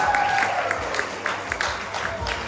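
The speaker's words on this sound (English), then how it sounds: "Let's give a round of applause." Audience at an improv show claps in a short burst of applause, a moderate crowd of hands with scattered louder claps, heard close and briefly over the room.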